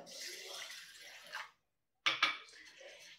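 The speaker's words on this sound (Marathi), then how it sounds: "ही डाळ आपण 2-3 वेळेस पाण्याने स्वच्छ धुवून घेऊयात." Water swishes and splashes in a bowl as lentils are rinsed, with a brief pause and then clinks of a container against a steel vessel.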